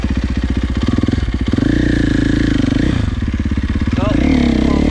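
A dirt bike engine revs up and holds a steady, loud drone as the rider pops a wheelie, with the pitch rising and falling through the throttle changes.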